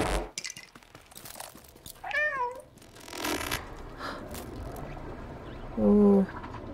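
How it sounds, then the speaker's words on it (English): Playable cat in the video game Stray letting out a couple of short, loud meows, one midway and a stronger one near the end, over quiet in-game ambience and scattered background sounds. "whenever I meow, it messes with that! That's so cool! I have a powerful meow"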